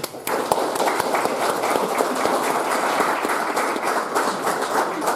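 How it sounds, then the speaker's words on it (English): A studio audience at a county sheriff's debate gives the candidates a sustained round of applause, thick rapid clapping from many hands held at an even level throughout. "How about a big round of applause for our candidates?"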